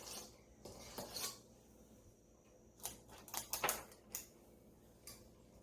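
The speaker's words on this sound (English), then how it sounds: "I'm using a 2-inch cookie scoop to lay my cookies on an ungreased baking sheet" A cookie scoop clicks and taps as it drops dough onto an ungreased baking sheet, with scattered light metallic knocks and scrapes spread out between quiet pauses.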